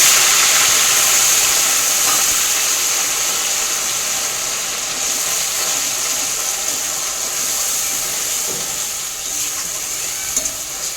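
Bay leaf, dried red chilli and cumin sizzle in hot oil, a steady, close, bright frying hiss that holds evenly throughout with no voices over it.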